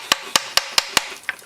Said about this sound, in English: take a hammer and tap up on this